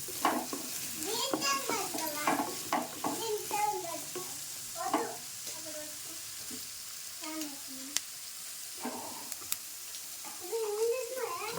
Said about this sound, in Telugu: సొరకాయ ముక్కలు వేసుకున్న తర్వాత ఇలా తిప్పుకోవాలి